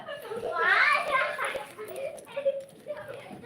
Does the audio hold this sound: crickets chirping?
no